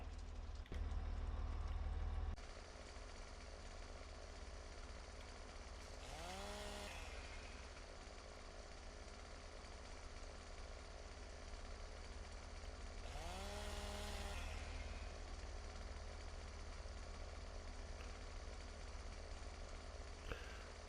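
A chainsaw runs at a distance, a faint steady drone that revs up twice into brief rising whines, once after a short louder rumble at the start.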